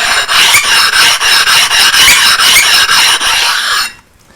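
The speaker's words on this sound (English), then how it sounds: "You take your stone, your bench stone, and you rub it on the surface." A bench stone rubbed back and forth on a Norton flattening stone makes a loud, harsh rasping scrape in steady strokes, then stops abruptly near the end.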